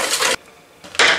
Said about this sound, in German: Auch das ein bisschen umrühren.